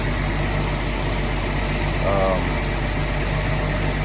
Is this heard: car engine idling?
yes